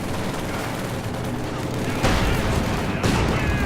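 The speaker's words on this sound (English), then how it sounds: "Field gun up there, barraging most of the Grenadiers." Field gun barrage in the strategy game Company of Heroes 2, a volley of booming shell blasts and gunfire with two sharp heavy impacts standing out over a dense battle din.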